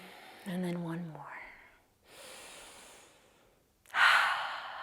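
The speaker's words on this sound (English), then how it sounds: "Another big breath. And then one more." Deep yoga breaths, a long drawn inhale and exhale followed by another breath, close to the microphone, after a brief bit of talking.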